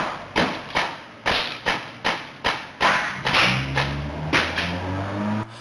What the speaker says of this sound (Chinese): 接着就听到连续枪声。